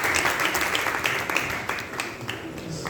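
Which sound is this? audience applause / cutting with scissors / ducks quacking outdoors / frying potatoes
audience applause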